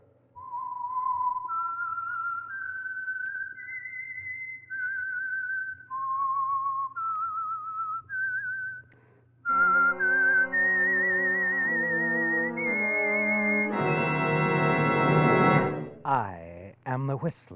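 A lone person whistles the eerie signature tune of the radio program The Whistler, a sequence of sustained, wavering notes, followed by an orchestral swell that ends in a sweeping flourish.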